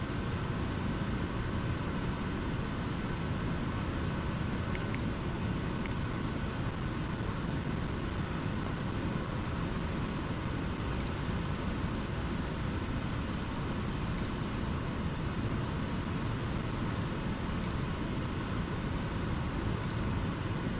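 An airliner on landing approach in Microsoft Flight Simulator, throttle off and flaps down two notches, gives a steady, loud broadband roar of engine and wind noise. The sound holds constant for the whole stretch, with no voices over it.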